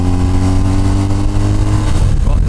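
A motorcycle accelerating out of a downhill corner, its engine a steady, loud mid-pitched drone with layered harmonic tones that hold throughout, rising slightly toward the end.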